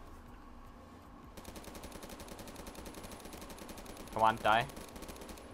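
Rapid automatic gunfire in the video game Phantom Forces crackles steadily under a player's voice, with two louder close bursts near the end.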